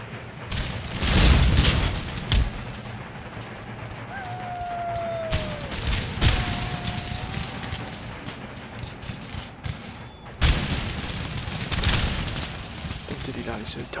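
Musket volleys and booming fire crackle across an Empire: Total War battle, repeated heavy reports at irregular intervals over continuous battlefield noise, with a voice speaking at times.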